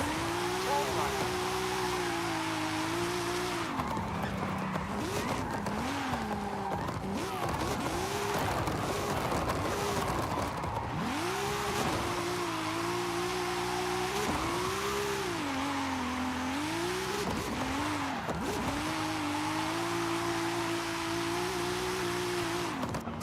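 A car in a video game drives hard, its engine close and loud, climbing and dropping in pitch through repeated revs and gear changes over a continuous drone.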